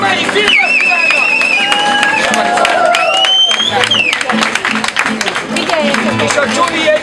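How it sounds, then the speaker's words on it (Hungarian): A crowd applauds and cheers at the opening of the 8th Romani Film Festival in Budapest, loud clapping mixed with shouts and whistles, with voices heard over the noise. "Egy tapsot kérek szépen a 8. Románi Filmfesztiválnak!"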